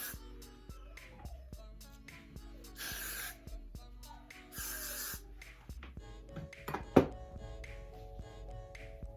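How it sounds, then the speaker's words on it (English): Two loud bursts of hair glue spray hiss onto styled hair, each lasting close to a second, with soft taps and rustling of hands and hair around them. "This is basically like a spray glue, spray hair glue for your hair."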